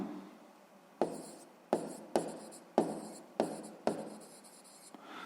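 A pen scratches on paper while someone works a fifth-grade math exercise by hand, in six or seven distinct close strokes with quiet gaps, no voices.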